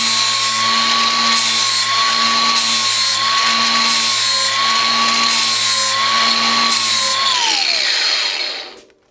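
A handheld power sharpener grinds a lawn mower blade with a loud, steady high-pitched whine and regular bursts of rasping contact, running continuously for several seconds before spinning down at the end.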